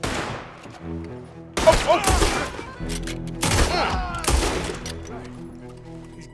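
Heavy gunfire from the video game Red Dead Redemption 2 comes in two dense, loud bursts of overlapping shots, with a brief exclamation and background game sound between them.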